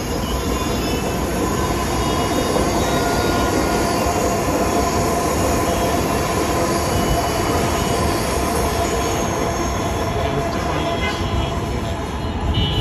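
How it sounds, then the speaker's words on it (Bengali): Metro train passing near a restaurant rooftop in the Farmgate area, a loud continuous roar of wheels on rails with steady squealing, filling the whole stretch without letting up. "সরাসরি আপনারা ট্রেন যে চলাচল করতেছে সে উপভোগটা করতে পারবেন"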